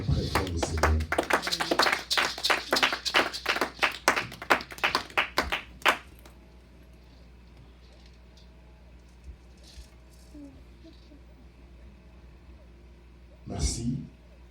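A church congregation claps loudly and steadily for several seconds during a service, then the applause stops abruptly and the room goes quiet, with a voice speaking briefly near the end.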